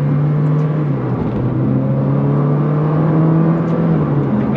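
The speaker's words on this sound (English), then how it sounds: "the engine, with that slight increase in brake horsepower, around 40 brake horsepower more, is just a little bit quicker to rev" A Ferrari 458 Speciale's engine, tuned for about 40 more horsepower, revs hard and holds a loud, steady high-pitched wail for several seconds, rising slightly in pitch as it climbs.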